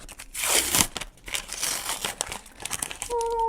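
Crinkly paper surprise packet being opened, with loud close rustling and crumpling that comes in bursts, followed by a short tonal sound at the end.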